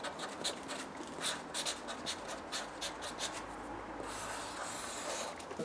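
Pen scratching and rubbing across a panel during an MR2 rebuild, a run of quick close strokes that fades into softer, steady scratching, no talking.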